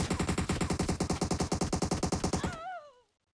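Sustained automatic rifle fire in the PUBG video game, a fast, steady stream of about two dozen close, loud shots that cuts off abruptly, leaving a brief ringing tail.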